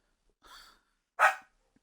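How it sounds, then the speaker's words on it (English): Two short dog barks, a softer one followed by a sharper, louder one, close by in an otherwise quiet space. "You're barking at literally nothing."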